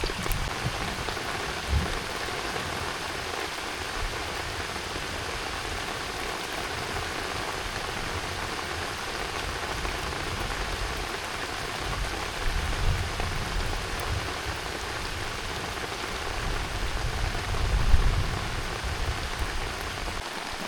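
Heavy rain pours steadily on a rural Vietnamese home where climbing plants grow, a dense continuous hiss of drops with a few louder splashes and no voices.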